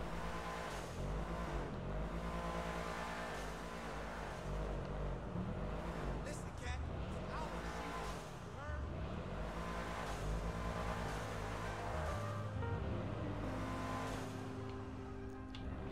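Engine of the Annis Hellion car in GTA Online, revving and droning loudly and continuously for the whole stretch, with pitch rising and falling as it accelerates.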